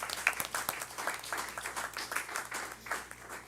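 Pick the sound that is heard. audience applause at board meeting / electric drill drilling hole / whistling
audience applause at board meeting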